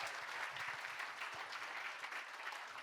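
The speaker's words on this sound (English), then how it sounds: "Let's give Gordon one more round of applause" Gala fundraiser audience gives a warm round of applause for Gordon, a soft, even wash of clapping heard from a distance, steady for a few seconds without talk.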